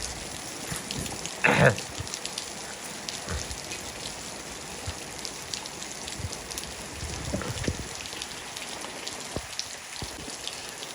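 Steady rain patters on surfaces throughout, with a brief louder splash or knock early on.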